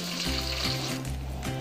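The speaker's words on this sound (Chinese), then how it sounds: "油大概七分热的时候，我们可以把这个素鱼放下去炸" Vegetarian mock fish deep-frying in hot oil for a Penang vegetarian asam laksa, a steady close crackling sizzle with a low hum running beneath.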